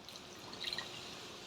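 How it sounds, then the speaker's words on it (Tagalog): Water poured into a pot of cooking monggo (mung bean stew) with malunggay and dried fish, a soft steady trickle with faint dripping, close and alone. "Dagdagan natin ng tubig mga boss may"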